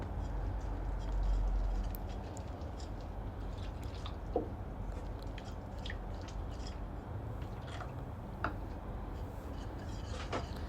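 Thick banana fritter batter, pazhampori style, is stirred with water in a bowl, giving soft, wet squishing and a few faint clicks over a steady low background hum.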